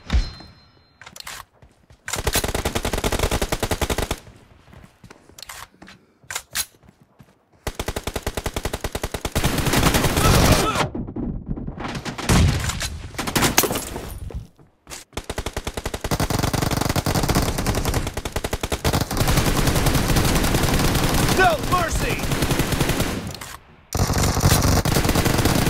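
Automatic gunfire in a PUBG Mobile team deathmatch, loud bursts of rapid shots arriving in long dense stretches broken by short pauses, close and harsh.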